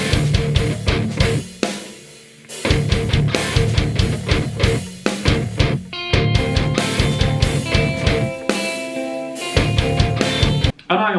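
Modern shred metal guitar tuned to drop D, chugging tight palm-muted low riffs with driving bass drum and bass guitar, loud, rhythmic and continuous with brief stops.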